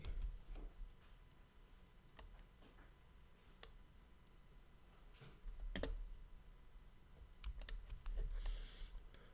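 Scattered clicks of a computer keyboard being typed on, including spacebar presses, come in a sparse, irregular rhythm at a faint, close level over a low room hum, with no talking.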